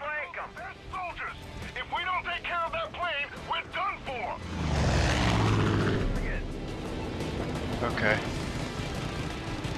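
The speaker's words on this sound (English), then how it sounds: "That's a plane." A propeller airplane from the video game Far Cry 5 sweeps in with a loud, building engine roar that swells midway and lingers, following a stretch of overlapping chatter and game noises.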